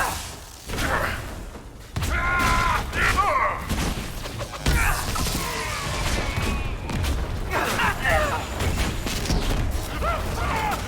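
Explosions and chaotic combat in Dragon Age Inquisition rumble as dense booms, whooshes and thuds layered over continuous game music and effects, loud and sustained.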